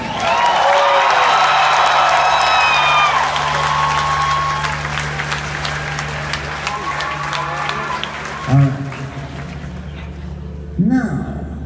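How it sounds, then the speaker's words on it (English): Loud audience applause with some cheering greets the introduction of performers at a stage show, then thins out into scattered clapping, with brief whoops near the end. "big round of applause"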